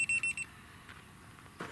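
A series of short, high electronic beeps from a level receiver during house excavation, four quick pulses at the start, followed by quiet rustling.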